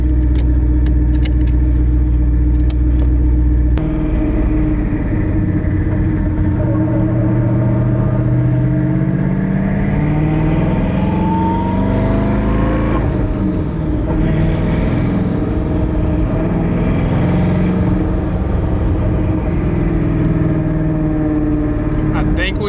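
A twin turbo Ford Mustang Boss 302 pulls away on a drive, its loud engine note rising and falling through gear changes, heard from inside the car with a voice talking over it.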